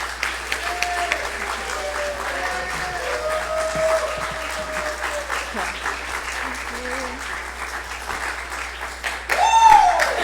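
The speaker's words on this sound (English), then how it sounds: "stand and give a round of applause" A congregation at a Sunday church service applauds to welcome a co-pastor, steady clapping through most of the stretch with voices talking and calling out over it, plus a brief tonal sound near the end.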